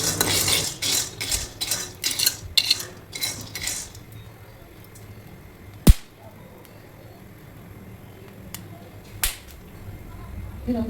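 Bean seeds crackle and pop as they fry in a pan, a cluster of sharp clicks and rattles in the first seconds, then a lone loud snap followed by a few sparse pops over a quiet sizzle.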